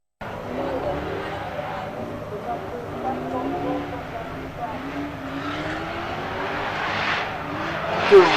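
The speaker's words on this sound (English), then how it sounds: "Listen to that engine roar." A Magnuson-supercharged V8 race car, over 800 Nm, roars steadily through a qualification run at a drag racing event, its sustained engine drone rising near the end under an excited commentator's voice.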